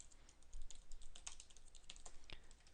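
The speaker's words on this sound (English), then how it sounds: "It's a Logitech solar keyboard." Typing on a Logitech solar keyboard, a steady run of quick, light key clicks at close range, with no voices.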